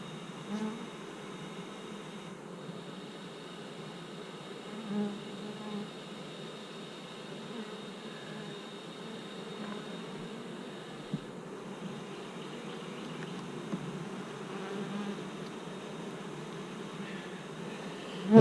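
Honeybees hum steadily inside an open hive during a summer mite check, a dense, even buzz close by that runs throughout with small clicks and bumps.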